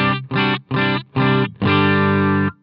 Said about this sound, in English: this is an incredibly flexible phaser